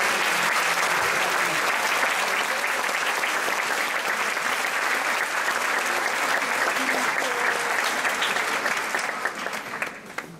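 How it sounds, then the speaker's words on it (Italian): An auditorium audience applauds top-scoring secondary school students at an excellence awards event in Ascoli Piceno, sustained loud clapping for about ten seconds before tapering off. "io direi subito facciamo un applauso a loro."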